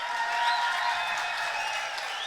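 Audience applause at a pro-life rally, a short burst of steady crowd clapping with some cheering voices mixed in.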